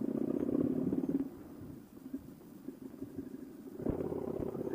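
A Harley-Davidson V-Rod Night Rod Special motorcycle engine runs steadily while riding, a loud low rumble that dips for a moment then swells again near the end.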